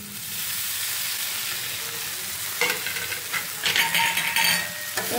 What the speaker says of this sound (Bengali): এটা কিছুক্ষণ ভালোভাবে একটু নাড়াচাড়া করে নেবো।